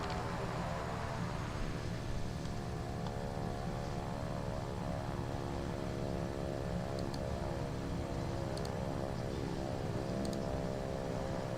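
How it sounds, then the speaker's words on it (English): Aircraft engines in a flight simulator, set to reverse thrust: a loud, steady propeller drone with a thick harmonic hum runs unbroken from start to end, with no voices. "he's got that reverse thrust going, man"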